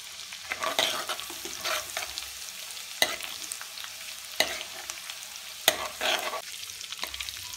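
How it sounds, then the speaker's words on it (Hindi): Garlic fries with browned cumin seeds in a pan for Mumbai street-style pav bhaji, giving a steady soft sizzle broken by several sharp scraping stirs of a spoon, close and alone with no talking. "हुण इहदे विच आपां करदे आं लहसुन ऐड। लहसुन नूं हल्का जिहा ब्राउन कर लैंदे आं।"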